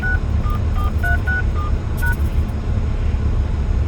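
Telephone keypad touch tones beep in a quick series of separate digit presses over a loud, rumbling background of wind and engine-like noise, with no talking.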